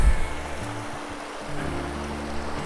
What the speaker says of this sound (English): Now look at that water. You could probably hear it on the video even with my lavalier mic on.